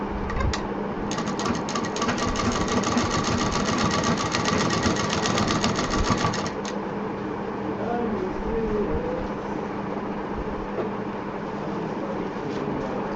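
Sewing machine stitching lace onto a homemade handbag, a fast steady motor whir with rapid needle clatter running for about six seconds before stopping, with faint talk beneath.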